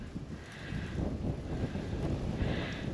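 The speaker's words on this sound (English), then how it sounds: "Getting a bit windy as well." Steady wind buffets the microphone with a low, continuous rumble and roar that swells slightly, no voices.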